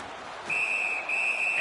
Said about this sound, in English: the referee's whistle has stopped play